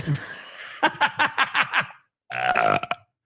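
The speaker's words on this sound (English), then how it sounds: "it was a burp in the laugh" A man laughs in a short series of rhythmic bursts, with a burp breaking through the laughter, then a longer, croaking belch follows after a brief pause; close and loud.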